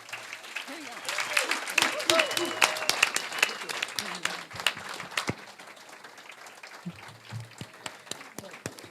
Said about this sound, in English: So I think he should get a round of applause for that.